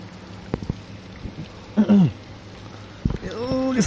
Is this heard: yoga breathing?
no